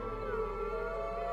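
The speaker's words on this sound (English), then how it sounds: "You hear the wolves howling?" A long, drawn-out wolf howl in a video game, steady and tonal, over a low hum. It is brief and has no speech.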